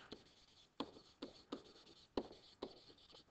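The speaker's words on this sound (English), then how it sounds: "I'm also going to write in here an item number" A pen or marker scratches and taps in short strokes while writing by hand during a statistics lecture, quiet and close, with uneven pauses between the strokes.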